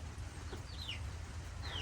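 Chickens and a young rooster on a homestead cluck and squawk in short, faint calls well in the background, nearly buried under a steady low rumble and broad hiss.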